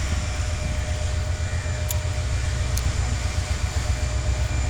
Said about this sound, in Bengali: এই যে ট্রেন যাচ্ছে।